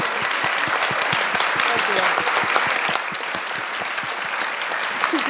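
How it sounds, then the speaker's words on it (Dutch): Sustained audience applause after a Dutch talk evening, dense steady clapping from a full room that continues evenly throughout, slightly thinning toward the end. "Maar eerst wil ik natuurlijk een heel groot applaus voor Dina Provili en Emma Vinsen."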